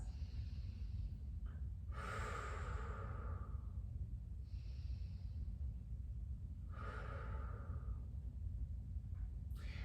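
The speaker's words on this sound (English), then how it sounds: "take 2 deep breaths" Deep breaths during a yoga session, two slow inhale-exhale cycles, close and airy, heard alone over a low steady background hum.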